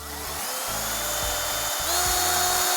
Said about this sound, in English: I'm gonna do it with the smaller drill